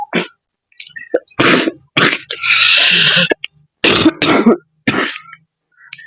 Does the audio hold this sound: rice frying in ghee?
no